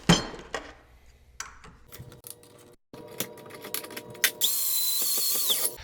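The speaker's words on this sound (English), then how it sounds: "going to make all of the edges match with a grinder" An angle grinder smoothing the edges of steel brackets, first intermittent clicks and short bursts, then a loud sustained whining grind against the metal in the last seconds.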